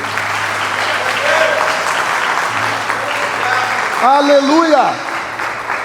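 Church congregation applauding steadily throughout, a dense wash of clapping with a voice shouting in praise near the end over the applause.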